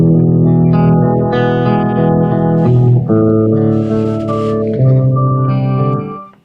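Electric guitar played through a new amplifier with effects, chords ringing with chorus-like shimmer and echo, loud and continuous for about six seconds before fading out, with no talking over it.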